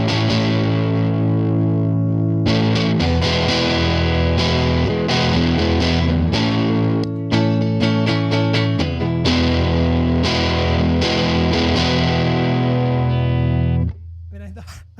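Electric guitar played through a Fairfield Barbershop overdrive with the tone control set to cut as much treble as possible, a dark, thick distorted tone sustaining chords and notes loudly and continuously for about fourteen seconds before fading.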